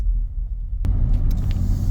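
A car rumbles along a narrow mountain road in Spain, a steady close engine and road drone with a sharp knock partway through, no talking.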